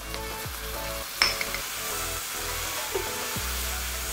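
Ginger, garlic, turmeric and fresh chili paste fry for eggplant sambal, giving a steady close sizzle with occasional stirring scrapes and a few sharp clinks of a utensil against the pan.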